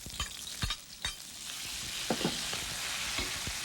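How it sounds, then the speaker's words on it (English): Beef tossed and stir-fried in a hot wok with onion and green onion, giving a steady close sizzle broken by scraping stirs of the spatula. "Then I put all my beef in."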